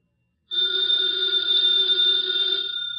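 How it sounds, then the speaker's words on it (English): A telephone bell rings continuously in an old-time radio detective drama, a loud, steady electric ring that starts abruptly and holds unbroken for about two and a half seconds, alone with no voices. "that phone bell means exciting adventure"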